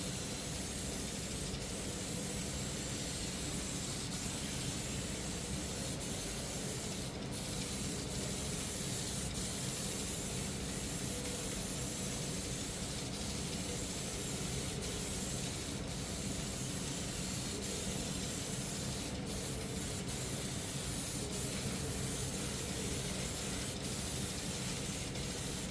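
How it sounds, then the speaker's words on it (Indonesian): A spray gun lays a thin, even single coat of candy tone violet paint with no grey primer, a continuous close hiss that runs steadily for about twenty-five seconds with no talk. "Untuk penyemprotan candy tone violet ini juga sama, kita akan semprot tipis saja satu lapis secara merata."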